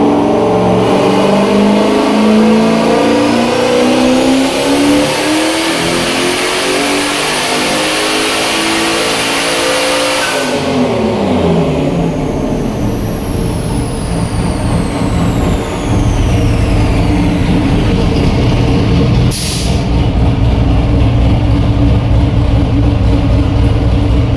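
A turbocharged Mazda Miata running about 30 psi of boost with a 200-shot of nitrous roars on a dyno, holding a loud sustained engine note that shifts abruptly midway and keeps screaming to the end.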